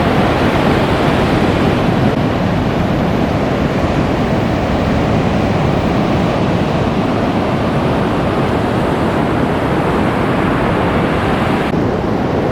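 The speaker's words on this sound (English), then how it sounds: "So this is Tunnel Beach." Surf pounds steadily at Tunnel Beach on New Zealand's West Coast, a loud, unbroken roar of breaking waves with no voices.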